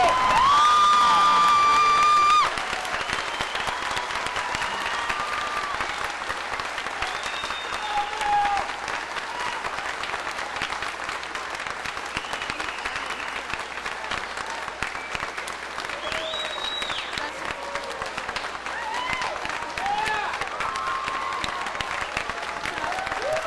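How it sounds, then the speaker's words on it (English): A university commencement audience applauds the graduating class, opening loud with cheers and whoops, then settling into long, steady clapping that continues at an even level with occasional shouts from the crowd. "I invite those in the audience to join me in applauding your success"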